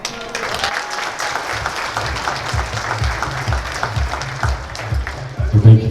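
Steady applause fills a wedding reception at a valima celebration, a crowd clapping continuously and fairly close, with voices talking over it toward the end.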